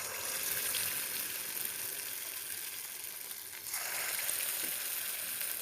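Lentil fritters for dahi vada sizzle in hot oil in a pan on low flame, a steady dense crackling hiss that swells a little partway through, heard close with no talking.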